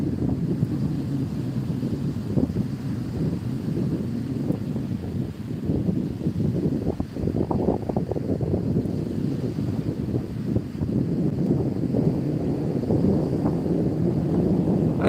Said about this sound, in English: The wind has gone around northerly now, but it's still very warm.